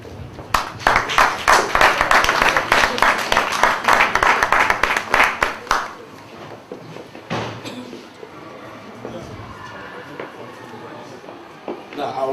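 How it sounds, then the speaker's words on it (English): An audience applauds at a political party event, with dense, steady clapping for about six seconds that then breaks off, followed by a few scattered claps and low room noise. "shall we give them a big hand of applause?"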